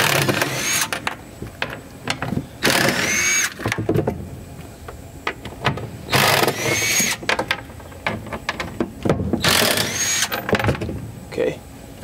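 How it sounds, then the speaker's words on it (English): A power tool whirs and ratchets in repeated short bursts while removing seat bolts on a sunken Falcon 330HT boat being stripped, with pauses between runs and people talking nearby. "Now we're gonna be removing the bolts of the seat."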